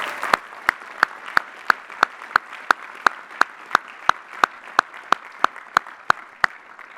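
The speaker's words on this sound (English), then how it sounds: "let's give all the family members and friends here a big round of applause" Commencement crowd at Lehigh University's spring ceremony applauding family members and friends: a sustained wash of clapping with one sharp, evenly spaced clap ringing out close by, roughly three times a second, throughout.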